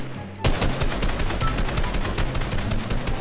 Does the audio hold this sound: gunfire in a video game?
yes